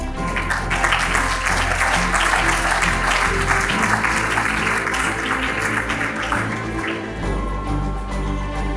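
An audience applauds a guest called to the stage at a literary evening, a dense, steady wash of many hands clapping throughout, with a low hum underneath.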